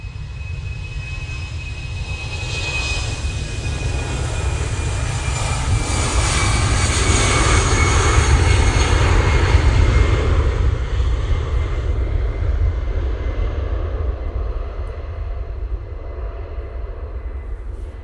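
A Finnair jet airplane passes by, a broad roaring rush that swells to a loud peak midway and then eases off while staying present to the end.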